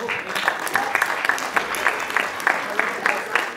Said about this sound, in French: Et on va l'applaudir bien fort pour la motiver.